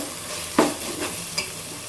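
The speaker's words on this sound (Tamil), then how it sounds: "இந்த இஞ்சி பூண்டு வந்து வேகும், வெங்காயமும் வெந்துக்கிட்டு" Ginger, garlic and onions fry in a pan with a soft continuous sizzle, broken by a couple of scraping stirs from a spoon, close and without talk.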